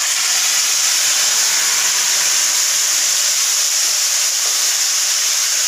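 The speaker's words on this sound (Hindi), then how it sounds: "तो अब टमाटर डाल देते हैं।" Tomatoes hit a hot pan of fenugreek and give a loud, steady, close-up sizzling hiss that runs unbroken from start to end, with no talking.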